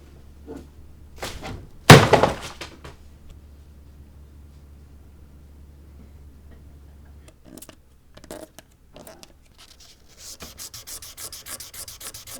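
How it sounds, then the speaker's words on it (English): Wooden dagger handles are oil sanded by hand at 1500 grit, giving soft, repeated rubbing strokes close up, with a sharp knock early on, quiet gaps, and a run of quicker scrubbing near the end. "Before I can oil sand at 1500 grit, I have to remember to lightly chamfer the front and back of these handles."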